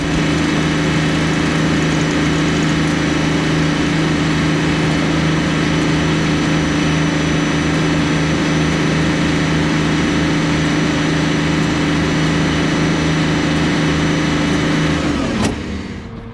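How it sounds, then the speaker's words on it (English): A tractor engine runs steadily at a constant drone while a round baler wraps a second-crop hay bale with twine, loud and close with no talk, ending abruptly near the end. "I'm currently wrapping the bale with twine to hold it all together"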